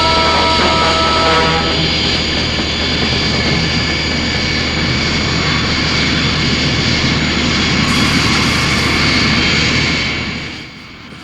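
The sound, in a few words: Thunderbird 2 transport aircraft engine sound from Thunderbirds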